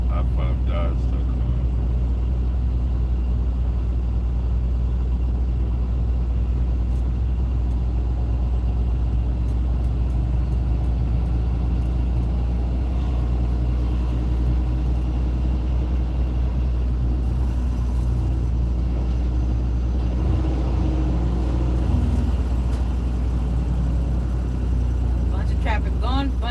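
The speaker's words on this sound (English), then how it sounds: "Bunch of traffic gone, bunch of traffic coming the other way." Steady low road-traffic rumble from cars and heavier vehicles passing in both directions, a continuous loud drone with occasional swells as vehicles go by, heard from inside an over-the-road truck with some talk over it.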